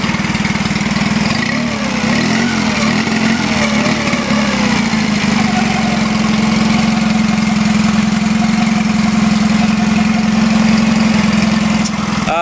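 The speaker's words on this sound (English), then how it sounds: "So I already started the engine, and it does start right up." A Tohatsu 9.9hp four-stroke outboard motor idles steadily and loudly up close, a constant mid-pitched engine drone with no voices.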